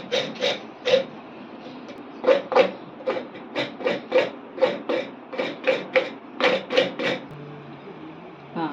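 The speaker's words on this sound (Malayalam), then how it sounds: "അപ്പം ഇങ്ങനെ തേങ്ങ ചിരകണം" Fresh coconut grated by hand for a Kerala-style upperi, a steady run of close, rhythmic rasping scrapes, about two strokes a second with brief gaps, and no talking.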